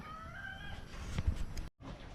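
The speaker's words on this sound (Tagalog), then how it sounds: "Ganda ng mga manok natin dito." Faint clucking and soft calls from chickens in the distance on a farm, over a steady outdoor background hum.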